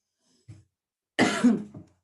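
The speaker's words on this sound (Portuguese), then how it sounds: "Ai, tô com tosse, gente." A single cough, preceded by a faint short throat sound, close and clear against silence.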